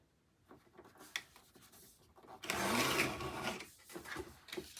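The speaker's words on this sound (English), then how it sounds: "So let me just even this out on my trimmer here." A paper trimmer slices through a photo: light scraping and tapping as the paper is lined up, then one sustained rasping cut that runs about a second, close by and fairly quiet.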